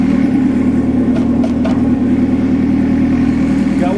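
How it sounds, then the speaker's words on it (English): A turbo drag car engine idles steadily with a deep, even rumble throughout, heard close up and alone. "So we got the trans back in. He's gonna test drive it now."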